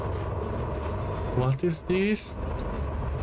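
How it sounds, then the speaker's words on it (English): A train passing in the video game INDIKA makes a steady, loud low rumble that fills the whole stretch, with a short burst of speech over it midway. "A train!"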